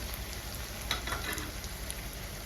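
A bay leaf dropped into hot oil for a country-chicken curry, giving a steady, close crackling sizzle with no talking.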